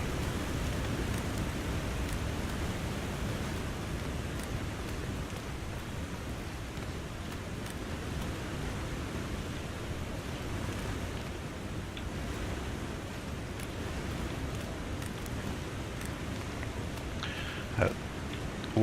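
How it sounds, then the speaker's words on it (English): A waterfall in The Long Dark video game, in the Forlorn Muskeg area, gives a steady, continuous broadband roar that stays even throughout, with a faint click near the end and no talking. "That waterfall is super loud."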